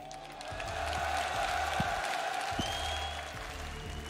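A crowd applauds and cheers steadily in a large, reverberant arena at a CS:GO esports grand final in Marseille, with scattered whoops over a continuous wash of clapping.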